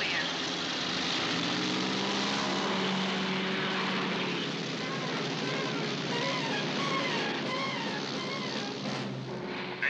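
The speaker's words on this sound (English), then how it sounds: "We're inside a cargo plane. And it sounds like we're about to go somewhere." Propeller cargo plane engines rumble steadily inside the hold of a 2002 Cartoon Network cartoon, a loud continuous drone with musical tones and faint voices layered over it throughout.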